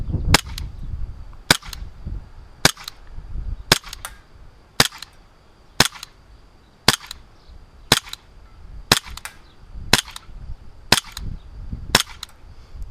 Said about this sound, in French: Nous revoici pour les tests de tir du Colt M45A1.